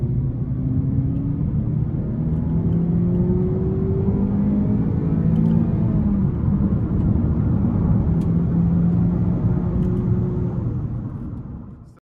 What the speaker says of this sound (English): starting the test drive in this 4-cylinder Impala, I'm gonna put it in the manual mode, and then we're gonna give it some throttle here